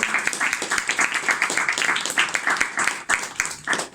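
Audience at a poetry gathering claps for a visiting poet, a moderately loud burst of individual claps with an uneven rhythm that thins out near the end.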